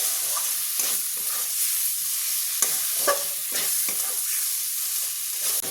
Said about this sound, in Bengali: কষতে থাকবো।